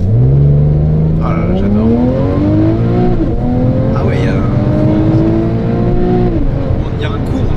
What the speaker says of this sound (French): On va faire un petit départ arrêté, un petit 0 à 80 en Sport Plus.